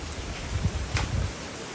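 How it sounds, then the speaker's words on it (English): Heavy rain pours down outdoors as a dense, steady hiss with a few brief louder spatters, with no talking. "It's raining super hard here."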